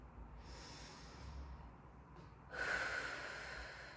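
A person breathes deeply during Pilates glute bridges, with a soft airy inhale followed by a louder, forceful exhale through the nose, close and alone with no talking.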